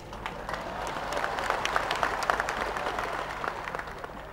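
Crowd applause at a rally in Chitral, dense and steady clapping from a large audience that swells slightly in the middle and holds throughout, fairly loud, with little talk under it.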